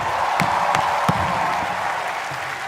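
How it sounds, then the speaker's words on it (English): A dense, steady wash of audience applause for Ranveer Singh and Arjun Kapoor at a comedy roast, loud and sustained, with a few sharper individual claps and faint voices beneath. "please give a huge fucking round of applause for Ranveer Singh and Arjun Kapoor"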